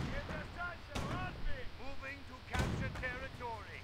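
Two sharp gunshot bursts ring out as an Ostwind flak tank fires on an anti-tank gun in a World War II strategy video game, heard beneath continuous commentary.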